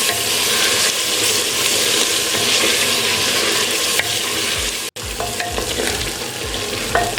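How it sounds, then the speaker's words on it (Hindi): Spices for chicken handi biryani fry and sizzle in a pot while being stirred, a steady loud crackle with scraping, broken by a brief silent gap before resuming. "अब इन सब चीज़ों को 3 से 4 मिनट के लिए मज़ीद भून लेंगे।"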